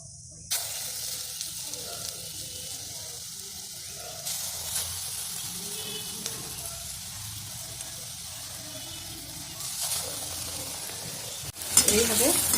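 Kalai dal fritters (bora) deep-frying in hot oil, a steady close sizzle and bubbling hiss that carries on without pause, with a few louder crackles near the end.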